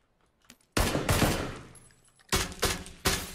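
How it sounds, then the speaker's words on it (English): A SCAR rifle fitted with a suppressor fires in PUBG: a long, loud burst of rapid shots, a short pause, then a few more sharp shots ringing out close by. "God, the scar is so loud now"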